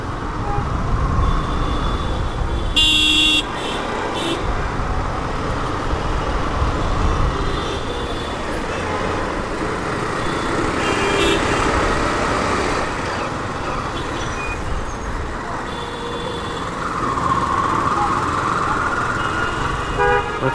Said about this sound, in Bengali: বাট প্রচুর জ্যাম, প্রচুর ট্রাফিক, রাস্তায় প্রচুর মানুষ নেমেছে আজকে।